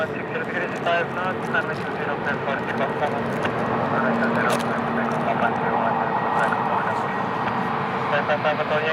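A plane taking off at Lisbon Airport, a steady broad engine roar heard from a distance throughout, with wind noise on the microphone.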